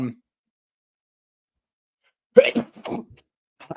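A single sharp sneeze close to the mic on a sports podcast about an NFL game, breaking a pause, followed by brief talk.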